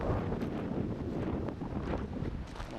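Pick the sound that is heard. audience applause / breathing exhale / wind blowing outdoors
wind blowing outdoors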